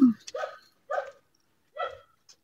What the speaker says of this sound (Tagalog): Ito yung mga aso ko, bakit nandito?